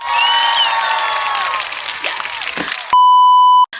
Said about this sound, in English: Hold for the applause.